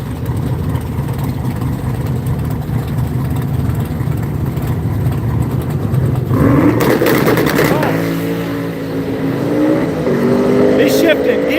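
Twin-turbo drag racing car making a pass at a drag strip, its engine note rising and stepping through gear shifts from about midway, loud over steady crowd and track noise with voices around.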